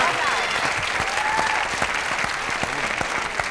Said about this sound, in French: J'aimerais, j'aimerais qu'on l'applaudisse avant parce que ce n'est pas sûr de pouvoir le faire après.